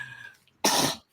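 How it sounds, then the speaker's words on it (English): A single sharp cough, loud and close, rising abruptly after a faint lead-in and fading within half a second. "And I keep coughing, you guys."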